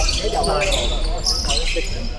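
A basketball thumps against the floor amid the noisy chatter of an indoor crowd.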